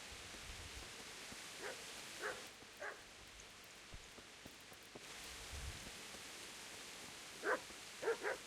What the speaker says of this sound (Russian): Тихо, пес.